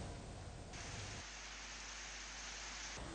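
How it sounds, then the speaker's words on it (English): Heavy rain falls across an island district after a long drought, a dense, steady hiss of downpour with no voices. "many areas across the island are now experiencing heavy rain"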